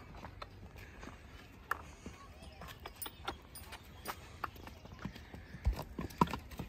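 A four-year-old mare being ridden outdoors, her hooves clip-clopping in a steady walking rhythm with sharper strikes toward the end, moderately close and fairly quiet.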